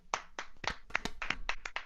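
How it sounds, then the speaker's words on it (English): A handful of sparse, distinct hand claps sound close by with an uneven rhythm, about a dozen sharp slaps welcoming a guest at an evening music show. "The big round of applause"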